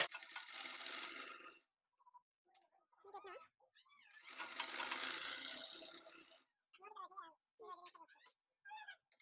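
Sewing machine stitching a blouse lining in two long, steady runs of close mechanical whirring, with a person talking in between.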